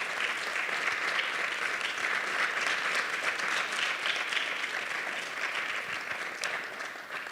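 An audience at a community health discussion claps for its panel of doctors and nurses, a dense, steady round of applause that carries on throughout and fades slightly near the end.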